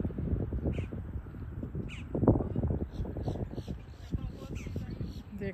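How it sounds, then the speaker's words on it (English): Crow-like caws and squawks from birds near a shallow-water fishing spot in Florida, heard a few times at moderate distance over background noise and some talking. "There goes the birds again."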